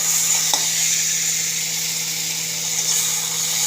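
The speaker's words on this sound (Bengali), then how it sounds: "এই যে মোচা বসিয়েছি ছোলা দিয়ে" Banana flower (mocha) with chickpeas sizzling in a hot pan, a steady loud frying hiss that continues unbroken throughout, with a faint clink near the start.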